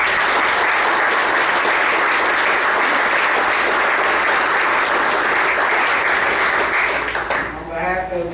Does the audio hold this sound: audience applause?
yes